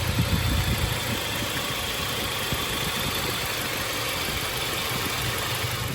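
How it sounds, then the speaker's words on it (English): A Toyota Tacoma engine idles steadily nearby during an oil change, a constant mid-pitched rumble with no voices. "Go ahead and start it, Ozzy."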